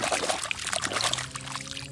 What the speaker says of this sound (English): I shake it strongly in water.